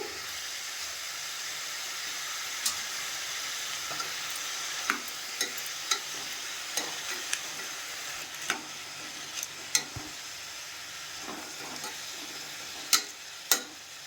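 Chopped tomatoes sizzle in hot oil in a pan for vegetable pulao, a steady bright hiss carrying the whole time, with occasional sharp clinks of a spoon scraping and stirring against the pan.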